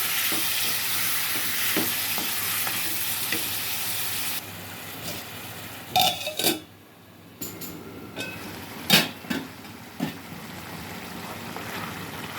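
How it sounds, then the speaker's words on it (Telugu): Washed chicken hits a hot pan with a broad hissing sizzle that steadily fades, followed by several scraping stirs and clinks of a spatula against the pan, close and moderately quiet. "బాగా కడిగి పెట్టుకున్న చికెన్ కూడా వేసేసుకుంటున్నాను. వేసుకొని ఒకసారి కలిపి మూత పెట్టుకున్నాం."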